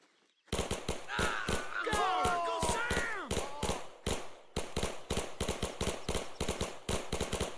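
Thompson submachine gun firing in Men of War II, set in the 1944 Normandy invasion, with rapid loud bursts and short gaps between them, while voices call out over the opening shots.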